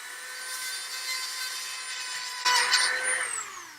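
A power drill bores through a plastic part of a scale model Lancer Class Pursuit Craft engine nozzle, giving a steady high whine that jumps into a louder, rougher burst near the end before the pitch sinks away.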